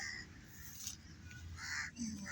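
A crow caws a few times nearby at a village railway line in Lalian, Pakistan, harsh and brief, over a low rumbling background.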